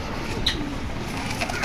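Pigeons in a loft coo softly against a steady low background hum, with faint rustling; no talking.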